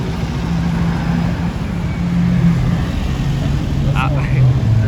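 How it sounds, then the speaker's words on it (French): A Range Rover with a V12 engine drives by on a Paris street, a loud low rumble that holds steady for a few seconds over busy traffic noise. "c'est un Range Rover avec un V12"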